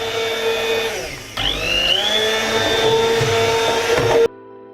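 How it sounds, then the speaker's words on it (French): Immersion blender whirring through pumpkin soup with hazelnuts, a loud steady motor whine that dips briefly, revs up again, and cuts off abruptly at the end. "on va repasser le tout au pied à soupe"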